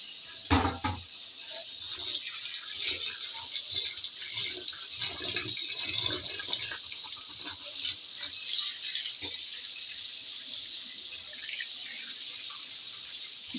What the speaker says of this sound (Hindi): जो हमने चावल लिए हैं इसको हम पानी में भिगो देंगे।